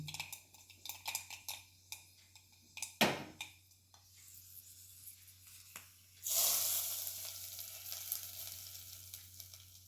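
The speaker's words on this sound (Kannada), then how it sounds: "ಸಾಸಿವೆ, ಎಣ್ಣೆ, ಮೆಣಸಿನ ಒಂದು ಒಗ್ಗರಣೆ ಹಾಕಿ ಇದಕ್ಕೆ ಚಟ್ನಿಗೆ." Mustard seeds and chillies crackle in oil for a chutney tempering: a run of sharp, close pops and spits, then a loud sustained hiss as the hot tempering hits, fading to a softer sizzle.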